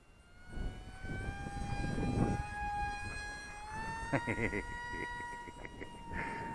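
An Esky Mini Eyas II sub-250g brushless RC FPV plane with a 750mm wingspan flies in gusty wind, its motor holding a high, buzzing whine that rises and dips in pitch as a voice talks nearby.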